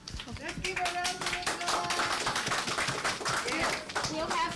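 Applause from an audience at a press conference with the DENR Secretary, a dense, steady patter of many hands clapping throughout at even loudness, with voices talking over it.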